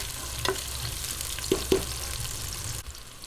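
Onion and ground pork sauté in a pan with a steady sizzle, broken by a few sharp scrapes and stirs of a utensil against the pan, close and moderately loud.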